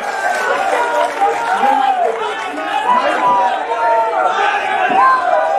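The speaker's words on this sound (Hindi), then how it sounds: "जोरदार तालियां बजा दीजिए पीछे तक खड़े होकर" A large crowd at a political rally for farmers with Kejriwal cheers and shouts loudly and continuously, voices swelling in waves with scattered clapping mixed in.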